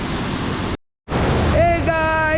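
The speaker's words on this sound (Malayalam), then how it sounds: "അങ്ങനെ നമ്മളെ വെള്ളച്ചാട്ടത്തിൻ്റെ അടുത്ത് എത്തിയിട്ടുണ്ട്." A waterfall near Grahan village in Kasol roars with a steady, close broadband rush. It cuts out briefly and then returns, with a thin whistling tone rising over it near the end.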